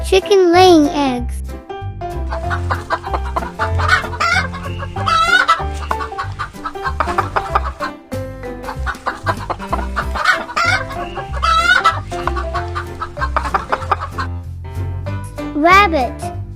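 Chickens cluck repeatedly among farm animal sounds, with a rooster crowing in bursts and a voice talking over the birds through most of the stretch.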